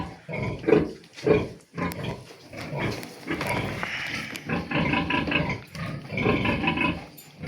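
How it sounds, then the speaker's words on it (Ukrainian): A sow grunts repeatedly in low, guttural, rhythmic bursts while nursing piglets, close and fairly loud, with overlapping snorting from other pigs. "Льоха, коли отак подає звук, е, харкотит, вона туди подає молоко."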